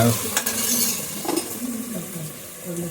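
Onions frying in a pan until golden make a close crackling sizzle, broken by stirring scrapes and light clatter across a few seconds.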